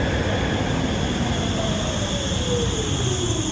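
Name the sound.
Düsseldorf U-Bahn trains in a station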